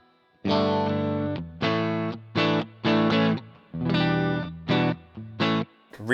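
Electric guitar through a BluGuitar Amp1 with its boost engaged gives distorted chords in short, punchy stabs with clean stops between them, loud and alone.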